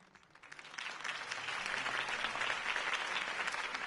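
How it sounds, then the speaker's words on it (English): A crowd in a Batman video game on PS5 applauds steadily, the clapping swelling quickly and holding at a dense, sustained roar for several seconds. "could have heard that applause"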